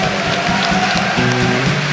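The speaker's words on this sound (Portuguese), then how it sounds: "Você pode dar um forte aplauso a Ele?" A church congregation claps for Jesus in a dense, sustained wash of applause, with a held musical tone underneath and no clear pauses.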